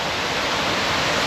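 A waterfall on the large front entrance sign at Theater of the Sea in the Florida Keys gives a steady, dense rush of falling water that runs unbroken and fairly close, with no voices over it.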